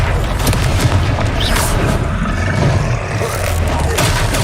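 A Confringo fire spell blasting in a video game battle, a sustained roaring, rumbling explosion with dense low-end boom and crackle, loud and continuous with no pause.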